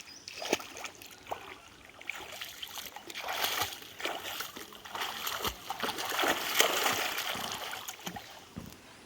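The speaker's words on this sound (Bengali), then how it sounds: "প্রীতম কিন্তু সাঁতার করছে, এই দেখো।" A boy learning to swim sends up faint, irregular splashes and water sloshes that come and go in a quiet outdoor setting.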